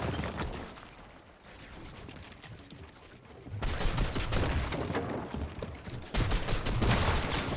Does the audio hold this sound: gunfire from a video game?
yes